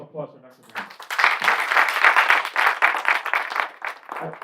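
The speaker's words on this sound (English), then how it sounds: "How about another round of applause for Dr. Brown?" An audience claps in steady applause at a Caribbean community event, a dense patter of many hands that builds and then thins, with a voice speaking briefly at the start and end.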